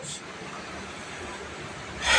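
A train running on the Badarpur to Guwahati railway gives a steady, low rumble that carries through the whole stretch. The sound rises and brightens toward the end, and no voices are heard.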